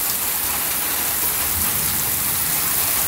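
Heavy rain during a thunderstorm that brought a tornado: a dense, loud, unbroken hiss of downpour hammering nearby surfaces, steady throughout with no talk.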